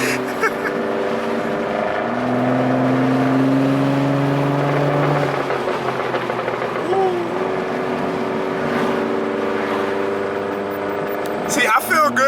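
A Genesis car engine runs loud and steady with sustained droning harmonics and a rising rev around the middle, a few sharp pops like backfires near the end, with people talking over it.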